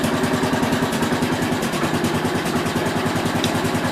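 A 1967 Case 430 engine idles steadily with an even, rapid low pulse, loud and close, with no talk over it.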